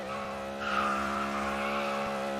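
A sustained high squeal of drift car tires skidding, loud and close, over a droning engine hum, holding steady for a couple of seconds with no talking.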